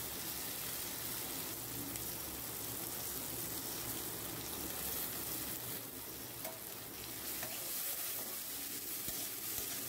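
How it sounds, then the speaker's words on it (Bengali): Ginger paste and softened tomatoes fry in a pan for fish curry, giving a steady, dense sizzle close up, with faint scraping as the mixture is stirred throughout. "আদাটা দিয়ে কিছুক্ষণ নাড়িয়ে নেব।"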